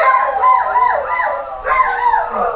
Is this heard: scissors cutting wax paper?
no